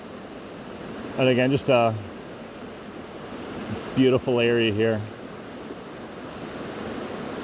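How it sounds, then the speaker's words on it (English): Waterfall pouring down beside an ice-covered mountainside, a steady broadband rush that runs throughout, while a person talks twice over it in short stretches. "Here's another shot just looking right on the side of the waterfall"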